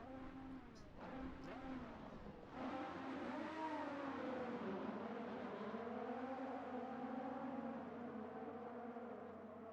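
AI-driven race cars roll through a formation lap in the Synthodrive racing game, engines droning and rising steadily at moderate revs with a continuous whir and no talking.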